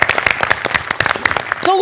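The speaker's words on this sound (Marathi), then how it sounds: "टाळ्या." Audience applause on a Marathi comedy stage show, a burst of clapping under talk and cheering that breaks off near the end.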